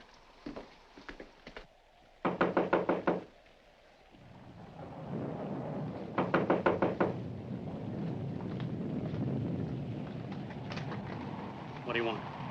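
Loud knocking on a front door in a 1946 suspense film, two bursts of rapid raps over a steady storm rumble with rain, thunder rolling beneath.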